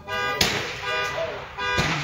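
A car alarm blares at an outdoor rimfire shooting range, its repeating tone cycling steadily with sharp clicks cutting in twice over the wail.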